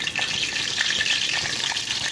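Chicken frying in hot oil, a steady, close, bright sizzle with crackling pops running throughout, alone with no voices.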